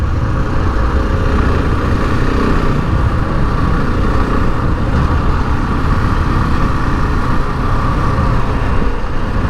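A 2021 KTM 690 Enduro R motorcycle under way, its engine and wind noise forming a loud, steady, dense rumble that runs unbroken throughout with no talk.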